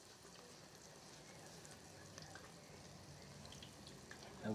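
Catfish fillets frying in a pan during a lakeside catch-and-cook at Lake Texoma give off a faint, steady hissing sizzle that runs unbroken throughout, with a slight swell at the very end.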